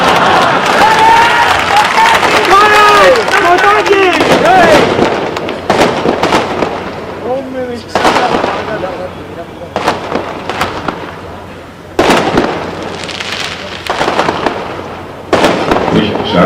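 Firecrackers crackle and pop at a political rally, loud bursts arriving in clusters while a crowd cheers and claps, with a voice or tonal sound sweeping through the first few seconds.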